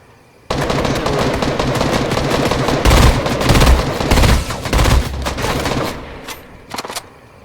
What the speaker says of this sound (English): So here I am shooting at this guy when we could have just been running.